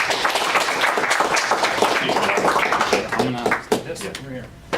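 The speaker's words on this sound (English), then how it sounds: "round of applause for Jason in the event" Audience applause at a small business and startup marketing event, a dense steady wash of clapping that fills the room and thins toward the end, with voices mixed in.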